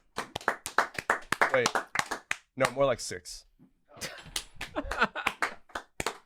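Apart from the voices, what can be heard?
hand clapping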